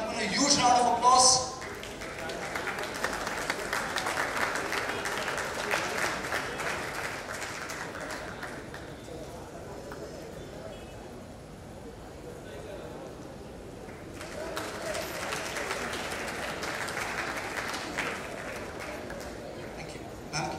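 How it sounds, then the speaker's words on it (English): Audience applause at a peace awards ceremony, a dense crowd clapping that swells loudly at first, eases through the middle, then rises again toward the end. "Ladies and gentlemen, a huge round of applause."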